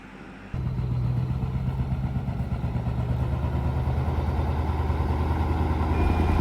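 A Mack truck rolls up to tow a 1942 Caterpillar grader, its diesel engine starting abruptly and then rumbling steadily nearby with an even low drone that builds slightly toward the end.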